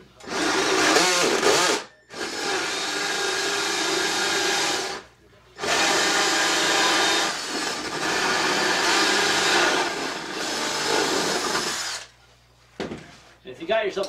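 A power drill with a hole saw whines and grinds loudly cutting wood for beehive ventilation boxes in long bursts, stopping briefly between cuts, with a short pause and rattling near the end.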